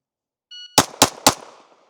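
A timer beep followed by three rapid, loud gunshots at a range shooting drill, evenly spaced close together, each with a short echoing tail.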